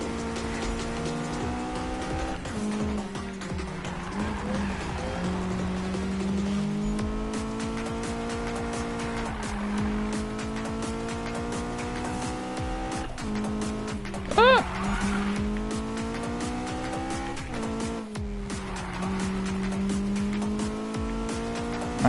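Racing cars in a video game with engines droning steadily and tires squealing in repeated bursts through corners, while a player talks over the whole run.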